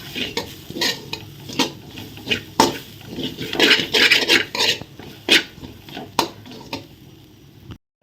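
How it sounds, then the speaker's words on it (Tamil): Laddu ingredients dry-roasting in a pan while a spatula stirs them, making loud, close, rhythmic scraping strokes that quicken in the middle, with no voices, before a brief pause at the end. "நல்லா வறுத்துக்கோங்க வாசனை வரும் பாருங்கள்"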